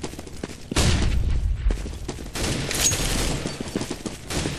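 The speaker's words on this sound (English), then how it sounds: "Flashbang out." Grenade blast in Counter-Strike, a loud burst of explosive and gunfire-like noise that starts abruptly and continues as dense, chaotic game combat sound throughout.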